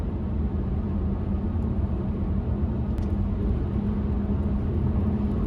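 Nissan Juke cruising at speed on the open road, a steady low engine and road rumble heard from inside the cabin, constant and even throughout with no voices.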